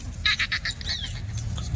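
Kathiawari goats bleating in a livestock yard: a quick run of four or five loud, harmonic bleats early on, then a rising call, over a constant low rumble of background noise.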